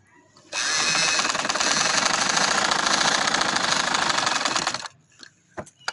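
A sewing machine runs steadily, stitching along the edge of a kurti being lengthened with lace trim, a continuous fast mechanical whir lasting several seconds before stopping, followed by faint handling clicks.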